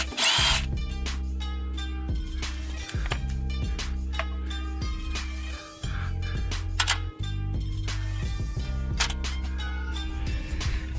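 A DeWalt power drill spinning a 10 mm bit, steady and loud, with a constant motor whine and low hum running almost without a break. Brief dips and stops mark the trigger being let off.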